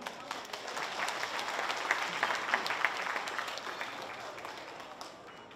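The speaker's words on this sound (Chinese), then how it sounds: "给他 掌声。" Audience applause at a banquet-style awards dinner, a steady wash of many hands clapping that swells and holds throughout, fairly loud and continuous with no one talking over it.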